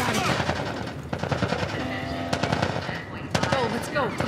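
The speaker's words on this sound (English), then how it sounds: "They're shooting them!" Rapid automatic gunfire from a firefight in The Last of Us remake prologue, loud dense bursts throughout, with shouting voices and scattered impacts mixed in.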